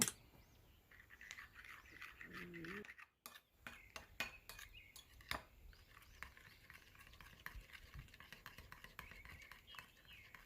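A spoon stirs sauce with a spoonful of ketchup added, giving repeated soft clinks and scraping taps against a bowl, close and fairly quiet, with a brief silent gap partway through.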